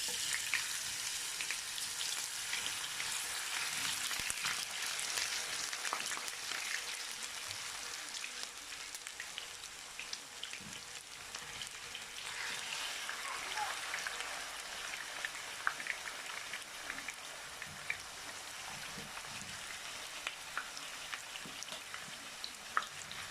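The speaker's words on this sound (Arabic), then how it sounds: "هنا المقله تاعنا فيها الزيت سخنت، درك نحطو البطاطا تاعنا تتقلى" Potatoes fry in hot oil in a pan, a steady, fairly quiet crackling sizzle that runs unbroken with small pops throughout, no talking over it.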